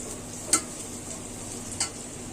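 Green chillies sizzle steadily in a frying pan, a constant close hiss broken by two brief scrapes or clacks as they are stirred.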